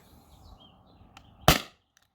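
A single sharp air pistol shot, a modified T4E TR50 or Beeman BP50, fired over a chronograph near the end of its charge, with a short crack and brief decay in a quiet room.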